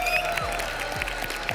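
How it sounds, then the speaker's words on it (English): Crowd applause in the arena at an esports Rainbow Six Siege major final, a steady wash of clapping under amplified hall sound with a low thumping beat. "Big round of applause for Fellapox."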